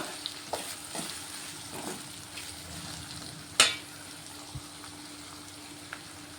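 Stuffed ivy gourd curry being stirred in a pan: soft scraping and light clinks of a spoon against the pan over a faint steady sizzle, with one sharper knock midway.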